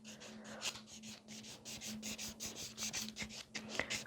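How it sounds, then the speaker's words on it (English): A nail tip is buffed with quick, rhythmic back-and-forth rubbing strokes, a soft close scratchy rasp repeated many times with short pauses during nail art work. "So I'm just quickly buffing a tip."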